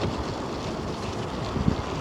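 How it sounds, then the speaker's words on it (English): Strong wind roars across a microphone outdoors beside a hotel entrance ramp, a dense continuous buffeting rumble with no pauses. "It's very, very windy."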